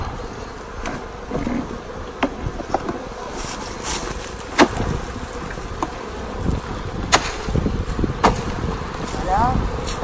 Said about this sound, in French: on va secouer la ruche par terre.